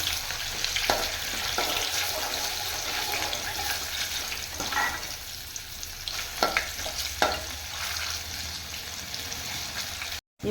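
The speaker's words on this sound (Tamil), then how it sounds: "இதுலேயே கொஞ்ச நேரம் வதங்கிட்டு இருக்கட்டும்" Onions and elephant foot yam sizzle steadily in a hot pan, with occasional scrapes and stirring clinks, fairly close and continuous.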